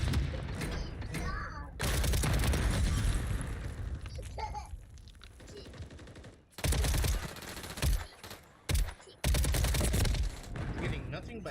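Loud automatic gunfire in the Warzone / Modern Warfare III shooter game comes in several sharp bursts separated by brief gaps, layered with other in-game effects.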